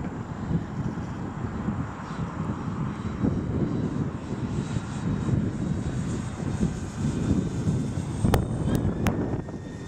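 A radio-controlled F7F-3 Tigercat model airplane flies by at about half throttle into a light headwind, its engine drone steady and fairly loud throughout, with wind buffeting the microphone and a few sharp clicks near the end.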